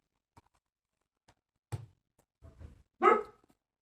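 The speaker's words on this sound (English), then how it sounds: "sorry, that's my dog" A dog gives a few short barks indoors, scattered and fairly quiet, ending with one louder bark.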